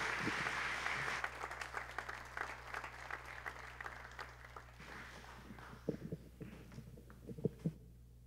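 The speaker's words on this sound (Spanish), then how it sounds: "Entonces recibamos con un fuerte aplauso al Quinteto de Bronces Musicofilia." Concert audience applauding to welcome a brass quintet at a religious music festival, clapping that is fairly distant and moderate over a low hum, then dwindling to scattered claps.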